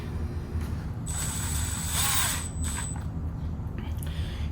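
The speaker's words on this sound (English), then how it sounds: "I'm gonna screw these screws for the latch." A hand tool drives screws into a door lock latch during a lock replacement, giving a steady mechanical grinding that swells into a louder ratcheting burst before easing off, close by.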